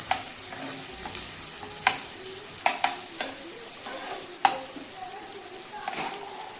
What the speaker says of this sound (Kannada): ಈರುಳ್ಳಿ ಸ್ವಲ್ಪ ಶಾಲೋ ಫ್ರೈ ಮಾಡಬೇಕು